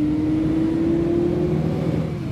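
A Volvo 9600 facelift sleeper bus in Bus Simulator Indonesia accelerates with a steady engine drone, its tone rising slightly before settling, loud and close with no voices.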